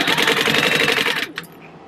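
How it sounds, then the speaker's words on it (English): Sewing machine base stitching fabric edges together on a purse project, a fast, loud, steady mechanical stitching rattle close by that stops abruptly near the end. "I'm just base stitching the edges together so that they'll be one piece and easier to work with later"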